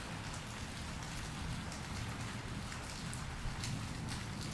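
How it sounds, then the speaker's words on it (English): Steady spring rain storm pouring down, a dense hiss of drops pattering on surfaces with low rumbling underneath, continuous and fairly loud with no voices. "But I love these spring and summer rains down here"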